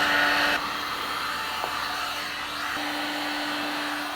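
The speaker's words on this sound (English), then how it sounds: "I'm going to grab a heat gun" A heat gun blows steadily over adhesive tape on a carbon fiber trunk lip of a Mitsubishi Evo X, a loud continuous whirring hiss that drops slightly in pitch and level early on, then holds steady.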